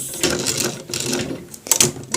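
A sewing machine stitches a shirt collar in short close mechanical bursts, its needle chattering in quick pulses with brief pauses between runs.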